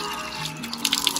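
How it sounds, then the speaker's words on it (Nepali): Water runs steadily from an outdoor village tap in Lamjung, Nepal, as someone washes their face under it, with splashing and irregular splatters over the constant flow. "म चाहिँ अब मुख धुँदैछु हेर्न सक्नुहुन्छ है धारमा स्वच्छ पानीमा"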